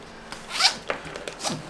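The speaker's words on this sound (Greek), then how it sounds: "το κλείνουμε το φερμουάρ του" A backpack zipper is pulled closed in a few short, quick rasping strokes, close and fairly quiet, with no talk.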